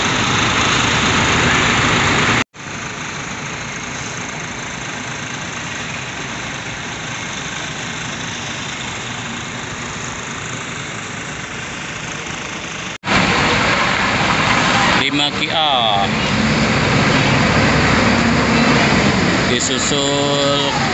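An AGRA Mas bus engine idling at Purworejo bus terminal, a steady, loud rumble that runs throughout, with a brief cut and a shift in tone partway through and faint background activity.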